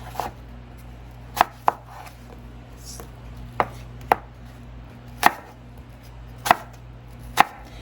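A knife chops apples into quarter-inch slices on a cutting board, sharp separate knocks arriving at an irregular steady pace over a low constant background hum, with no speech.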